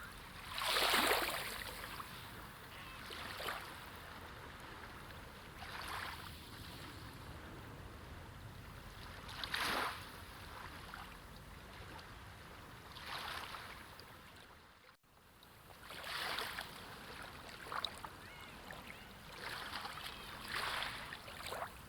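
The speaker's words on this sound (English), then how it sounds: "You can hear it in the waves. They are slower now, longer, each one taking more time to arrive and more time to retreat." Ocean waves roll in and pull back at high tide, slow and long, several soft surges swelling and fading over a steady wash of surf, heard from some distance.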